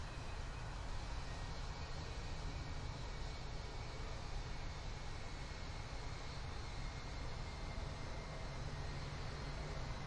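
An American Airlines airliner powers up for takeoff on runway 18 right at Dallas Fort Worth, its steady jet engine roar heard at a distance as a faint, continuous broadband rush with no talk.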